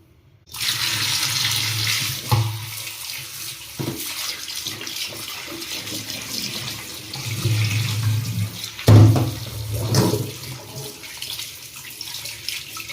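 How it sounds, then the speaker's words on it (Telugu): Carrots are washed under a running kitchen tap, with steady close water flow splashing into a sink and irregular louder splashes and clunks as they are handled. "క్యారెట్ అయితే తీసుకున్నాము. వాటిని నీట్గా వాష్ చేసుకుందాము ఫస్ట్."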